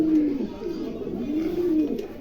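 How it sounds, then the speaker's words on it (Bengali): A pair of silver king pigeons coo softly nearby, two or three rising and falling rolling coos in close succession. "চমৎকার একজোড়া সিলভার শৌকিং আছে"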